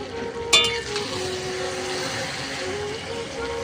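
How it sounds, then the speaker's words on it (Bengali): Chicken curry frying in an open pot as it is stirred, a steady dense sizzle with a sharp clatter of the lid or spoon near the start. "এখন কিন্তু আমি ঢাকনাটা একটু খুলে হালকা করে নেড়ে দেবো"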